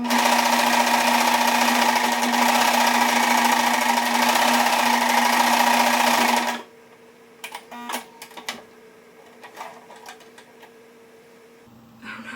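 A sewing machine runs steadily and loudly, stitching sparkly sequined fabric for double-layer mouse ears, then stops abruptly, leaving faint clicks and handling noises.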